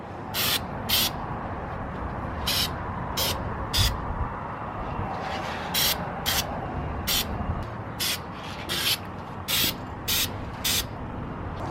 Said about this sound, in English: So I'm just gonna spray the inside of the pots. You just do a thin coat.